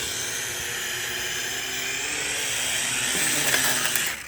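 An R'bird DMS240 Black Master drone flies with a steady, loud whirring buzz of spinning rotors that rises slightly in pitch and intensity toward the end, with no voices.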